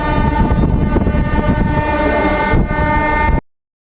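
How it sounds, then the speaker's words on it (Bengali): A train pulls out, loud and close, with a sustained horn blaring over the rumble and clatter of rolling carriages before it cuts off abruptly. "দেখো ট্রেন ছেড়ে দিয়েছে।"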